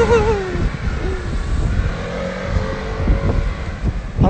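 Wind buffeting a microphone outdoors, a loud continuous low rumble with gusty surges throughout, with a faint voice and tonal sounds mixed in.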